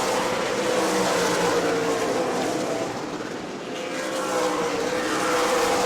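Super late model race cars roar down the main straightaway at New Smyrna, a loud, continuous wall of engine noise that dips briefly midway as the pack passes, then swells again.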